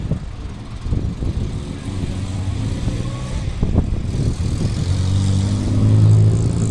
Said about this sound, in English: from motorcycle 2 wheels to 4 wheels with the Austin A35 van